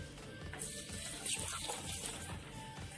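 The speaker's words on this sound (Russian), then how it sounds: "Затем заливаем теплой водой" Warm water pours over rolled oats in a home kitchen, making a faint, continuous splashing gush that lasts throughout with no talking.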